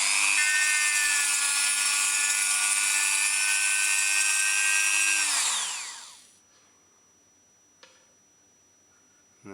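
Dremel rotary tool spinning at high speed while shaping a small 10mm wooden bead, a loud steady whine that holds for about six seconds, then winds down to silence, followed by a couple of faint knocks.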